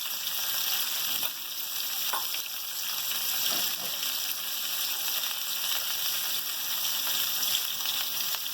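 Ginger garlic paste hits a hot pan for village-style mutton paya (goat trotters), raising a loud, steady sizzle that holds throughout with a few faint stirring scrapes.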